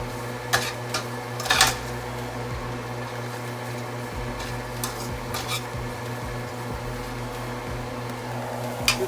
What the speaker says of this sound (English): You keep stirring the abacha